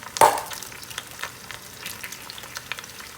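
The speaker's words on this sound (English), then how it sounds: "the oxtails are browning on the first side" Oxtails sear in a Ninja Foodi pressure cooker with a steady, soft sizzle and a brief louder crackle at the start, close by with no talking.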